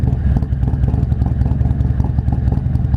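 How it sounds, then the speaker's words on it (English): Harley-Davidson Milwaukee-Eight 114 V-twin with an S&S 475 cam, revved in a throttle response test; a loud, close, steady engine roar with pulsing exhaust throughout, no voices. "Let's check out some throttle response before I take her so I know what I'm getting into."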